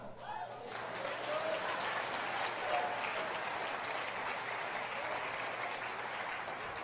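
Sustained applause from a church audience, a dense wash of clapping that swells and holds for several seconds without voices.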